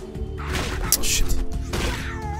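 Rocket explosions in Halo: Combat Evolved, with a couple of heavy blasts and crashes over loud game noise, one burst after another.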